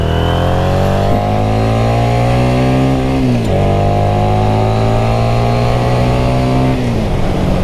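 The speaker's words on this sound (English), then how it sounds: "this is a Harley Davidson XG500, and I am just blown away by the way that this thing sounds" A Harley-Davidson XG500 motorcycle engine runs loud and close, its rumble climbing through several revving pulls in pitch with brief drops between them, continuous throughout with no talking.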